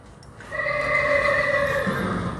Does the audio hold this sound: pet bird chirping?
no